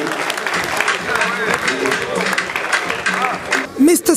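Applause from the audience at the African Awards ceremony in Brussels, a broad steady clapping that runs under an announcer's amplified voice before a brief louder burst near the end.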